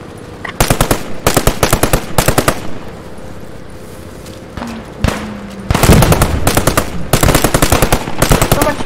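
Loud machine gun fire in the World War II game Post Scriptum, several long rapid bursts of closely spaced shots separated by brief lulls, with the last stretch nearly continuous.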